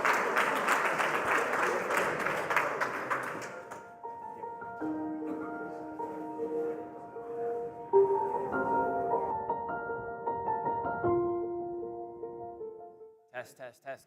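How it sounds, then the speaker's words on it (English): Audience applause at a Bitcoin conference in Naples greets a speaker coming onto the stage, steady and full for about four seconds, then fading into faint scattered claps under a musical tone and room noise. "Give him a nice round of applause."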